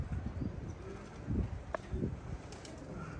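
Racing pigeons coo softly outdoors in a few low, rounded bursts, fairly close, over a steady breezy background with a brief higher chirp in the middle.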